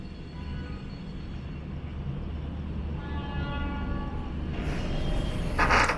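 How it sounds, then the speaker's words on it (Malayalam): A long-distance train passes on the adjacent track: a steady, low rumble of wheels that gradually swells, with a bright squeal or horn-like tone near the end, heard from a moving train. "അപ്പുറത്ത് കൂടെ ഒരു ട്രെയിൻ വന്നൊരു G9 ഹോൾഡ് 41561 കൃഷ്ണരാജപുരത്തിൻ്റെ SWR എന്ന് എഴുതിയ ഏതോ ഒരു ലോങ് ഡിസ്റ്റൻസ് ട്രെയിനാണ്"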